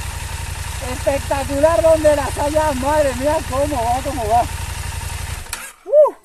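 A 2023 KTM 890 Adventure R motorcycle engine rumbles steadily at idle and low revs while someone speaks excitedly over it; the engine cuts out near the end.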